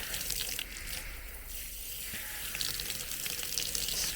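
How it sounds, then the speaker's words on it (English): Hot water runs steadily from the tap of an outdoor bathtub at a hotel villa in Khao Yai, a continuous close gushing splash with no talk. "Let's see if the hot water really runs hot"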